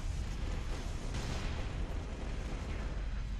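A grenade blast in Halo: Reach, a dense rumbling boom that fills the whole stretch with layered battle noise, loud and close, with no clear talk over it.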